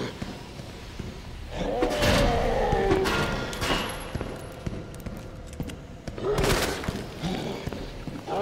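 Gunfire in Resident Evil 2 Remake, a couple of loud sustained bursts of shots with booming impacts, separated by quieter game ambience, with a voice in the background.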